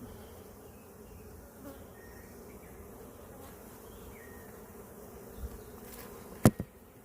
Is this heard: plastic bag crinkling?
no